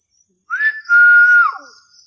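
A single person whistles clearly up close: a short rising note, then a longer sustained tone that dips at the end, with silence around it.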